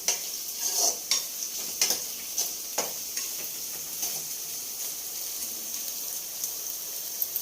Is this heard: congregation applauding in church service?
no